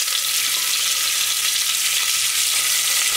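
Green vegetables hitting a hot pan for Sindhi kadi, giving a steady, loud, close sizzle and frying hiss that holds unbroken throughout, with no talking.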